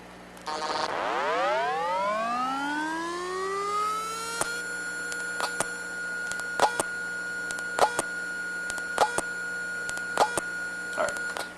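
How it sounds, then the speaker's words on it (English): A failing hard drive powers up: an electronic whine sweeps upward and settles into a steady tone, then sharp clicks of the read arm repeat at irregular intervals. "those are the sounds of the actual read arm setting and resetting"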